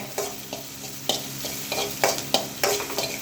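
Chopped onion and garlic sauté in a pan with a soft background sizzle, broken by repeated spatula scrapes and stirring strokes at an irregular pace, close and clear.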